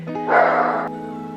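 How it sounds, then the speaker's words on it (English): A single dog bark, close and fairly loud, followed by a quiet room hum. "So now I'm gonna try and meditate if Dexter doesn't keep barking."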